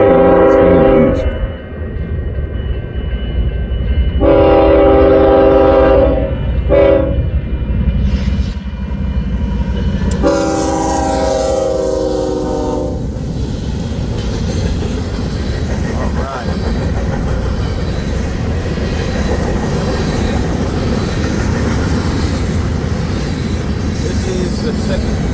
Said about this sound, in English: Again, this train is heading, well, it's an eastbound, Railroad East, but north out of Council Bluffs to Mo Valley, and now swinging east.